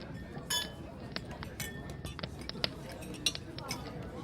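Dishes clink as a ladle serves stone soup from a pot, bright sharp chinks of crockery and cutlery scattered irregularly, close and moderately loud, with a voice speaking over them.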